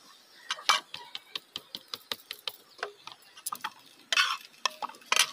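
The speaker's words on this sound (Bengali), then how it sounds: "এই যে এখন নুডলসগুলো দিতেছি" Noodles are tossed and stirred in a pan during a sunny rooftop cook, producing a run of sharp, rhythmic clinks and scrapes of a utensil against metal, close and fairly crisp, with a faint sizzle underneath.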